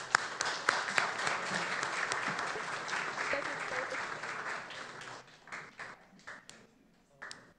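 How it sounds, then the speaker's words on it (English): Applause from a student hackathon audience for an event organizer, steady clapping for about five seconds before tapering into scattered claps, fairly faint and at a distance. "can we get a round of applause for that?"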